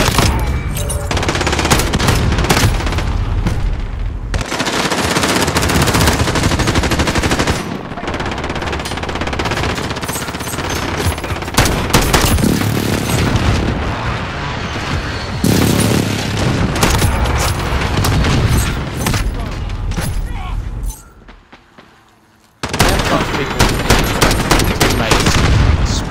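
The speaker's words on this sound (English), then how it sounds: "My teammate is shooting again." Video game gunfire from a teammate, heavy bursts of rapid automatic fire with booming shots, dense and loud for most of the stretch, briefly dropping away near the end before resuming.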